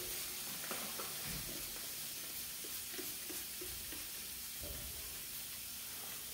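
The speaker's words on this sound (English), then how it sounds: "Continue spraying." Spraying during a wall crack injection gives a faint, steady hiss, broken by soft intermittent clicks and knocks with no talking.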